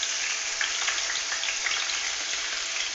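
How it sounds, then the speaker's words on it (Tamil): Small cut potato pieces frying in hot oil for a potato fry, a dense, steady sizzle that stays loud and even, with no talk. "நம்ம இப்போ எடுத்து வச்சுருக்க உருளைக்கிழங்கு எல்லாத்தையும் இதில் சேர்த்துக்கலாம்."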